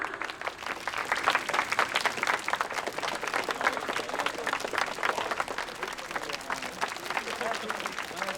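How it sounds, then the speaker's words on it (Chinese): Audience applauding at a press launch event as the project developers enter, a steady wash of clapping hands sustained throughout with some voices mixed in. "让我们以热烈的掌声欢迎他们入场"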